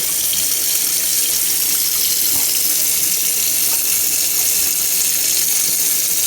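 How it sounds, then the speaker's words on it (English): Cold tap water runs in a steady, unbroken stream while a free-range chicken is being processed, a constant close hiss of flow with no voices. "make sure you get some cold water running too, not warm water, cold water"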